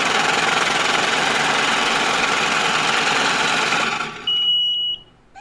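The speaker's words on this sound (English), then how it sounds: "oh shit, no, it's a money counter" A money counter whirs rapidly and steadily as bills riffle through it, then it stops and a short high electronic beep sounds.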